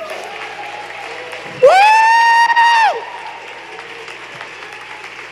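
A church audience breaks into a short, loud burst of applause and cheering lasting about a second, with one high whoop over it. Quieter talk comes before and after.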